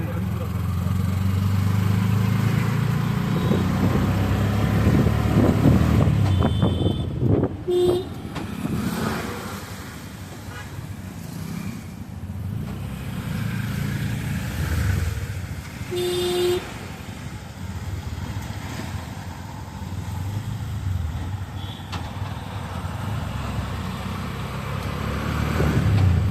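Pune street jammed with traffic: a continuous close rumble of idling and creeping cars and motorcycles, with occasional revving swells, and people talking over the engine noise throughout.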